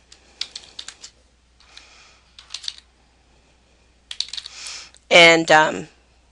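Short bursts of typing on a computer keyboard while editing schedule fields, crisp nearby key clicks in separate clusters with pauses, followed by someone speaking.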